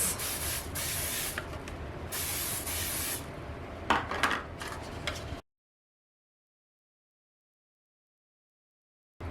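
Cooking spray hisses from a can in several short bursts close by onto mini baking pans, mixed with light clattering and rubbing, before the sound cuts to silence.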